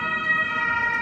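A police siren sounds in a German street, a steady loud tone heard for just a moment.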